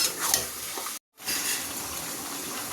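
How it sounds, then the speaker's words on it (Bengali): Meat sautéing in a pan with chilli and coriander powder gives a steady, close crackling sizzle that cuts out for a moment and then resumes at the same level, with no talking. "লঙ্কা, ধনের গুঁড়ো, এগুলোকে ভালো করে এবার কষিয়ে নিই।"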